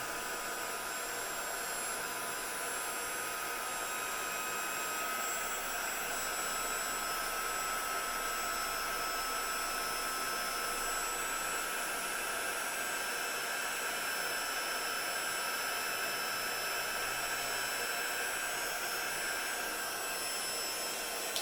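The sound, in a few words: heat tool melting embossing powder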